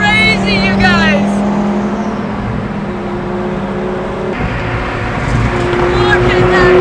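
A Lamborghini Gallardo twin turbo supercar spitting flames at a supercar gathering, a loud sustained engine drone with revving and passing car noise, with excited voices shouting over it.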